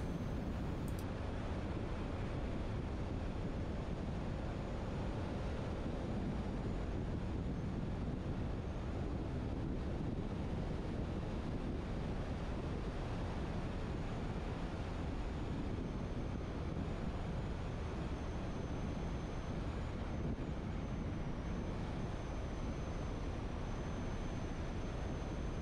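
Steady, loud wind roar buffets the microphone while riding a Honda Forza 350 scooter on a tour, a continuous broadband rush with no breaks and no voices.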